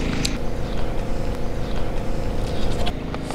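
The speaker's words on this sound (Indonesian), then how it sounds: "Ada suara perahu" A fishing boat's engine drones steadily at a steady level from start to finish, a low motor rumble moving past on the water with faint knocks and clatter above it.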